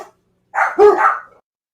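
A pet dog gives one close, loud bark with a short whining tail in an indoor home, reacting to the wind outside, with brief silence before and after.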